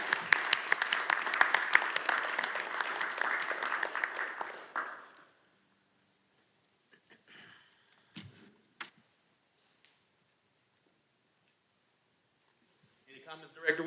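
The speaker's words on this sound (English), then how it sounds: "So let's give her and all of our advocates a round of applause." Brief applause from attendees at a board of directors meeting, a few seconds of scattered clapping that fades out, followed by near silence with faint handling noises and a voice returning at the end.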